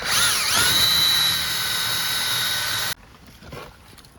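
A power drill bores a drain hole in a Honda Element, whining loudly and steadily at close range with a rising-then-falling pitch at the start, then cuts off abruptly, leaving quiet shuffling.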